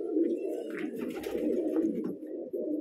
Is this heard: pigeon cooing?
yes